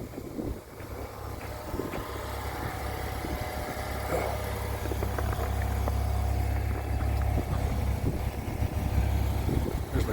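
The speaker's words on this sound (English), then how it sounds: "Truck. It's running. It sounds like shit though." A truck engine idles steadily in deep snow during a Texas blizzard, running rough with a low, constant rumble and vibration, with wind and faint scattered noise over it.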